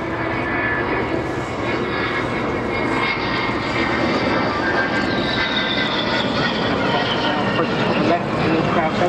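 An Avro Vulcan bomber roars through a flying display at Waddington in 2013, a loud continuous jet rumble held throughout while a commentator talks over it.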